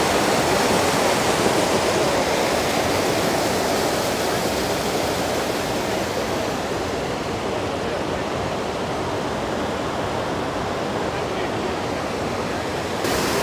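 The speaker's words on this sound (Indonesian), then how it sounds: "Oh, suara airnya kencang banget ya." A fountain in Sydney pours out a loud, constant rush of water, a dense roar that fills the whole stretch up close.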